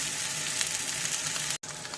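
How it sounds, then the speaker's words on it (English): Potatoes fry in a pan with a steady, close sizzle that runs evenly, broken by a brief dropout near the end. "You've got to turn them all over, because you need to fry them on the other cut part"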